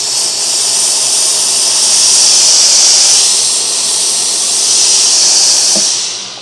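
Steam hisses steadily and loudly from a steam iron fitted with a diffuser, a continuous close broadband rush that holds for several seconds and fades at the end, with no talking.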